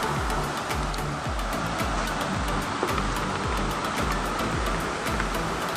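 Strong current of rushing flood water after heavy rain, a dense, steady roar of turbulent water that stays loud and close throughout with no voices.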